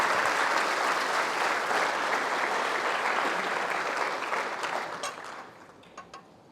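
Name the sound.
congregation applause in church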